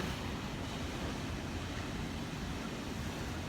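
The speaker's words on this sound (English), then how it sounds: "I'm at these little cliffs. I don't know what the name of this beach is called." Waves rolling in at the base of small coastal cliffs on a California beach, heard as a faint, steady, broad wash of surf mixed with wind, with no one speaking.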